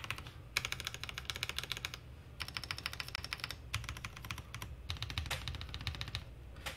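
Fast typing on a Feker Alice 80 budget trimode mechanical keyboard with an Alice layout: quick bursts of crisp key clacks separated by short pauses, close up and clear.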